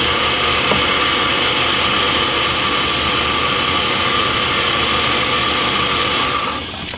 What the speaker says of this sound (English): as soon as I loosened it, the vehicle cut off